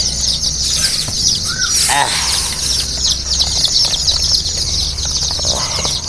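Chicks cheep in a dense, high, overlapping chorus while being fed, constant close-by peeping with occasional louder chirps, and a voice speaks faintly underneath.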